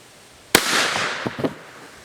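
A shotgun fires a Jolly Rancher hard candy slug into a wooden board: one sharp, loud blast followed by a short rumbling decay with a few faint knocks, and no speech.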